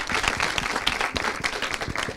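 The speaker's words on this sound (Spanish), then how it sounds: "Un aplauso también para Cristi, por favor." Steady applause from an audience, many hands clapping densely and continuously at a fairly loud level throughout.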